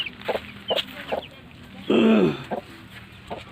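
Aseel parrot-beak breed chicken clucking as it runs up in a farmyard, a series of short soft clucks spaced through the moment with one louder, longer call in the middle, fairly close by.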